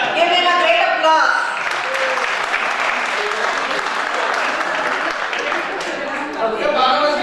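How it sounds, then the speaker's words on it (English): An audience breaks into sustained applause, loud and dense clapping that fills the room for several seconds, with a voice speaking over the start and end. "give him a great applause"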